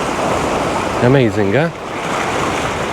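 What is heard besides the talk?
waves hitting rocks at a beach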